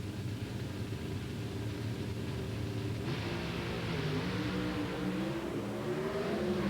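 Pro Stock drag race cars roar through the final round of the 1995 NHRA Winternationals, a loud sustained engine blast with rising revs and a gear-change shift midway, no talk.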